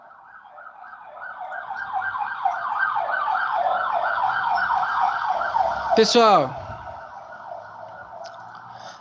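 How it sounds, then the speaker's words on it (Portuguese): An ambulance siren passes close by a street-side classroom, its wailing tone rising and falling loudly for several seconds and then sweeping sharply down as the vehicle goes past, with a voice briefly heard. "Espera a ambulância passar um pouquinho."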